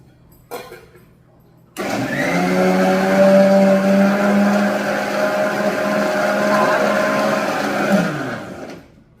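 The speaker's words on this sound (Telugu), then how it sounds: "ఇలా మిక్సీలో మనం వేసుకొని కొంచెం వాటర్ వేసుకొని మిక్సీ పట్టుకోవాలి" A kitchen mixer grinder whirs steadily with a strong motor hum, churning ingredients with a little water; it starts abruptly after a brief knock, runs loud and close for about six seconds, then cuts off and winds down.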